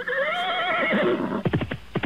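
A horse gives a loud, close whinny with a wavering, falling pitch lasting over a second, followed by a quick series of short, sharp pulses like snorts or hoofbeats.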